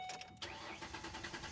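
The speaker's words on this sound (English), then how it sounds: "I'm gonna start up the Explorer" A Ford Explorer with about 156,781 miles cranks and starts after a short pause, then settles into a steady, fairly quiet engine run close by with no talk.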